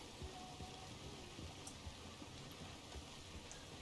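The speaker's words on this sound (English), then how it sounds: "And it's raining." Soft, steady rain in the video game Red Dead patters continuously with scattered drip ticks, faint and even throughout.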